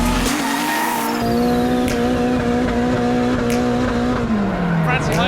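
Drift cars at an Irish Drift Series event sliding in tandem, engines screaming at high revs with sustained tire squeal and shifting pitch, loud and close under an excited commentator.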